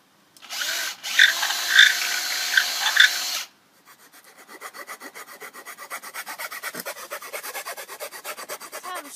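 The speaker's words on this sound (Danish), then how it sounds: "så tager du boremaskinen og borer et hul igennem den her pind her" A power drill whirs steadily, then cuts out; after a short pause a rhythmic rasping starts up and grows louder as the bit bores a hole through a wooden stick.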